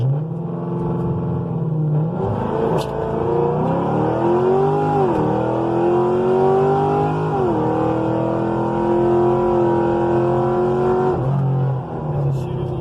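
A drag racing car launches down the strip at Pageland Dragstrip with a loud, sustained engine roar that climbs in pitch through several gear shifts, heard close and continuous.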